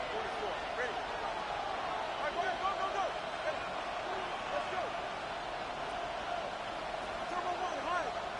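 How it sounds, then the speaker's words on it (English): Stadium crowd roaring at Arrowhead during a professional football game, a broad, steady wash of cheering and babble from thousands of fans, with a few brief sharp accents over it. "The crowd at Arrowhead roaring."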